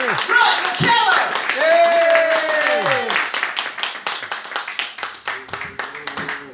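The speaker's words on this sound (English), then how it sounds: "we're going to make you feel welcome with that nice gentle rip of applause at the front" Comedy club audience at a roadhouse gives a brief burst of clapping and cheering alongside voices and a whoop. The applause then thins into scattered individual claps that fade out.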